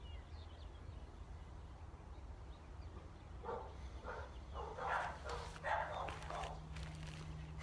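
Dogs bark somewhere in the middle distance, a handful of short, muffled barks in an irregular cluster that rise over a steady low background hum.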